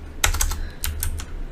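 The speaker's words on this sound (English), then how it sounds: "So we'll start by typing in the following command." Rapid keystrokes on a computer keyboard while entering a command during WiFi penetration testing, in two close, loud bursts of clicks with a short pause between.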